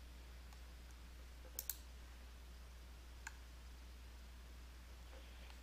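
A computer mouse clicking a few times, with sharp, faint clicks including a quick double click, spaced apart against a quiet room hum.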